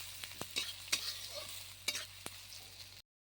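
Chopped onion frying in hot oil for a village-style chicken curry, a soft, steady sizzle broken by a handful of sharp spoon clicks and scrapes from stirring, fairly quiet and close, with no talking.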